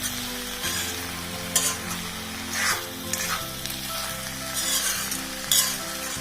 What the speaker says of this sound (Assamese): কলডিলটো বেছ ভাজ খাইছে।